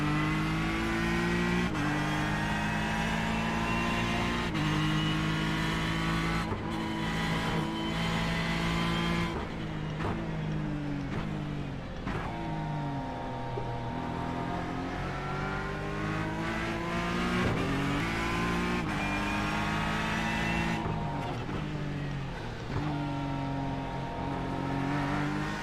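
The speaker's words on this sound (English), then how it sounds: "I do love the sound of this Ford." A Ford NASCAR race car engine roars and revs in a racing video game, sustained and loud, its pitch sweeping up and down through repeated gear shifts, with no talk.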